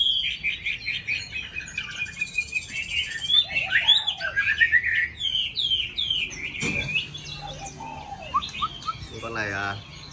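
A caged songbird chirping and trilling in bright, rapid bursts close by, with someone speaking Vietnamese intermittently underneath.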